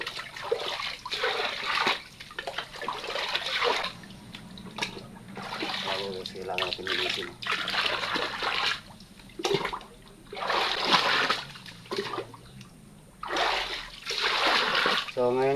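Water flows and splashes into a well being cleaned out, a continuous rushing and splattering that keeps going under someone speaking.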